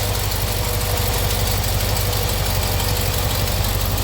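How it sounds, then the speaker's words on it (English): An old Cadillac's carbureted engine idles loudly and steadily close by, with a rough, throbbing exhaust note from a suspected exhaust manifold leak underneath and a constant low rumble. "That's all you hear is that exhaust under the bottom under there."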